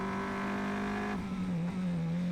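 Formula Regional single-seater engine recorded onboard at Monza, a loud sustained high-pitched drone that holds steady, then drops and wavers as the car shifts or brakes into the Lesmo curves, with no talk over it.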